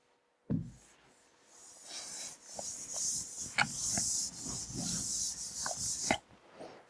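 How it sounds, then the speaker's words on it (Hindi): An eraser scrubs back and forth on paper to rub out writing, a raspy friction sound in several close, steady strokes lasting a few seconds. "चलो रब करूं।"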